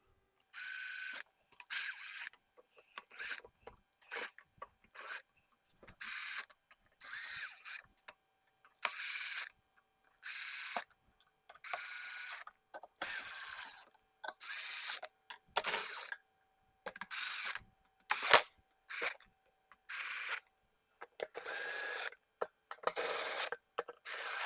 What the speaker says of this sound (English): Now that we have all these bolts in, I'm just going to wind them in with the impact.